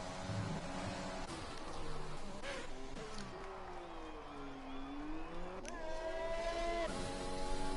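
Formula race cars lapping the Monaco circuit in a racing video game, engines whining and shifting pitch continuously, with one car sweeping through a rising and falling note and a loud close pass near the end.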